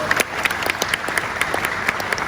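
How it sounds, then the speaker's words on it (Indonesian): An audience at a university public lecture claps together in a short burst of steady, close applause with no talking. "Tepuk tangan sekali lagi untuk beliau."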